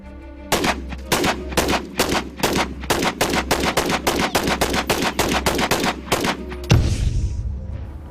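Rapid rounds of rifle fire crack out in a steady string of about twenty sharp reports across a vast open 10,000-acre outdoor shooting range, loud and close, ending in a heavier final blast.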